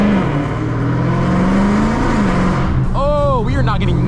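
A 1000HP Dodge Challenger Hellcat Redeye roars loudly and steadily as its tires spin without traction, close by, with a man exclaiming over it near the end.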